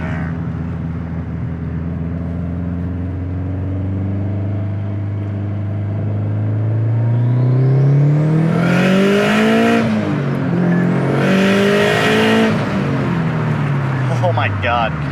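A 457 WHP stock-block Subaru STI accelerates hard through third and fourth gear: the engine note climbs loudly and rises in pitch, drops briefly at the shift, then climbs again with turbo whoosh, heard from inside the car.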